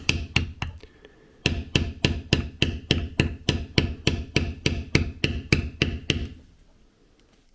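Steady metal tool struck repeatedly by a mallet while beveling leather, a short burst of hits then a rapid even series of about twenty sharp close knocks that stop near the end.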